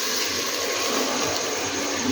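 A glass of water pours into a pan of arbi and potato masala as a steady, continuous gush that runs close and fairly loud without a break.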